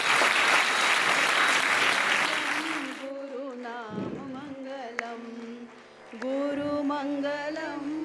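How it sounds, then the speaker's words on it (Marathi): Audience applause at a Guru Purnima worship ceremony, dense and loud for about three seconds, then fading into a voice speaking over music. "सगळ्यांनी टाळ्यांचा कडकडाट एकदा होऊ द्या"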